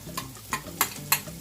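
Curry spices, jeera, turmeric and aromatics frying in a pot for Trini curry goat, with regular light taps and scrapes of stirring about every third of a second over a soft background sizzle.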